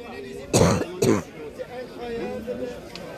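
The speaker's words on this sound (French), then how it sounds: "Pendant que j'essaie de résister à la toux" Two sharp coughs in quick succession up close, followed by faint muffled background chatter in a shop.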